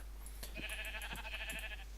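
Sheep bleating in a Minecraft-style survival video game, several short wavering bleats in quick succession, clear and fairly close over a steady low background hum.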